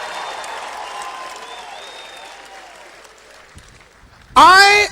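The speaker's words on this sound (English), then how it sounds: "Come on, ladies, clap for me just for a couple seconds here." An audience of women applauds at a leadership teaching event, the clapping steady and moderate under a speaking voice, then closing with a sudden, much louder burst of cheering.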